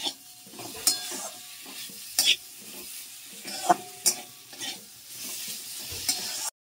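Drumsticks and potatoes frying in a pan with ground mustard paste, a steady sizzle under repeated stirring scrapes and occasional sharp clicks of the spoon against the pan, close up and without talk.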